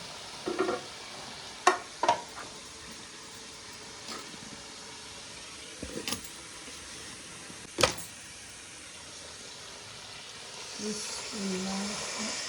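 Beef browning in a pot for nihari, with a faint background sizzle broken by a few sharp scraping and clanking stir strokes, heard close up with no talking.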